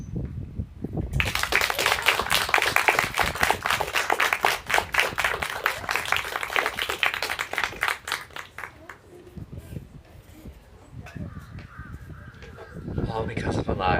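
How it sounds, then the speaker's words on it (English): Audience applause in a hall after a student storytelling showcase at FGCU, a long sustained burst of many hands clapping that fades after several seconds, followed by a voice speaking. "let's give her another round of applause"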